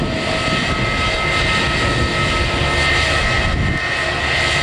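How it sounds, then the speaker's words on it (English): Jet engines of a Eurowings Airbus A319-100 at Manchester Airport roar steadily and loudly throughout, a continuous broadband rumble with a high whine and no voices. "this little plane is going to Hamburg. It's an Airbus A319-100."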